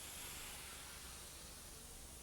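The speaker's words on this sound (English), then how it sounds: "That noise you can hear is the cylinder cock still open." Continuous broad hiss of steam escaping from an open cylinder cock on a mainline steam locomotive, steady and fairly loud throughout, with no talking.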